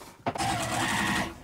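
After a brief click, a sewing machine top stitches along a coin purse with a short, steady burst of motor whir and needle patter, close and fairly loud.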